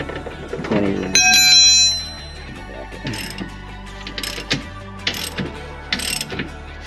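Ratchet clicking in short bursts while a rear suspension bolt on a Scion FR-S is snugged up, close metallic ticks after a metallic clank, with a voice talking briefly.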